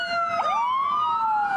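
A Finnish emergency vehicle siren wails loud and close, its tone sweeping up sharply then holding a long, steady rising-and-falling pitch with bright harmonics, sounding alone without voices.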